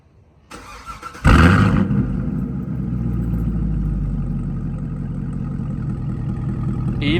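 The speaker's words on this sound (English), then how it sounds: "right, here's our remote start." A Camaro engine, started by remote start, cranks briefly and catches with a loud burst, then settles into a deep, throaty idle through an aftermarket exhaust close by, running steadily without any talking.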